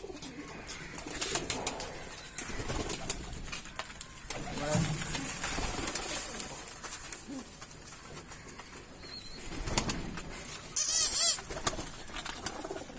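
Pigeons in a shed being fed grit, with soft intermittent cooing and fluttering, fairly close, mixed with rustling and handling noises and a brief sharp burst near the end.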